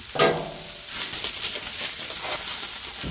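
Crispy, blackened onions sizzle steadily on a Blackstone flat-top griddle, a close, even crackling hiss with a sharp scrape at the start and light stirring scrapes throughout.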